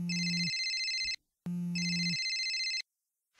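A cell phone ringtone sounds twice, a loud, close electronic ring in two long bursts separated by a short gap, with no voices.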